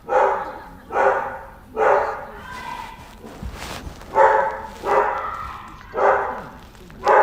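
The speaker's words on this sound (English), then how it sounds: "Sorry about my dogs barking." Pet dogs barking indoors, a string of about eight evenly spaced barks in a steady rhythm, moderately close and clear, with nobody talking over them.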